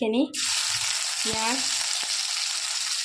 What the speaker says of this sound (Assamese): এইখিনি মাছ ফ্ৰাই কৰা তেলতে এতিয়া মই প্ৰথমতে দিম পিঁয়াজ